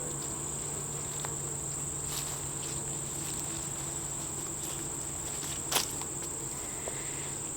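Honeybees buzzing steadily on a hive frame of capped brood and larvae during a hive inspection, a continuous close drone with a sharp tick near the end.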